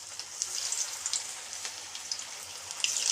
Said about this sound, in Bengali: এই যে দেখুন, আমি একটা একটা করে বল ফ্রাই করে দিয়ে দেব।